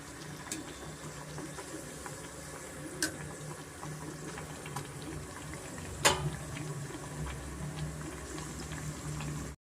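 Avarebele vada fry in oil on a medium flame, a soft, steady bubbling with occasional sharper pops and crackles, fairly quiet and unaccompanied by talk.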